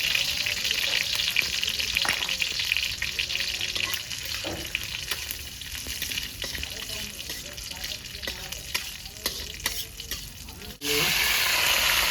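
Whole chillies fry in hot oil in a village kitchen, a loud, dense sizzle crackling continuously up close, briefly dipping before surging again near the end.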